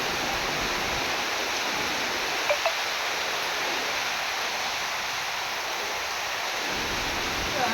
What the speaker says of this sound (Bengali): দেখতেই তো পারছেন আসলে কি জোরে বৃষ্টিটা হচ্ছে।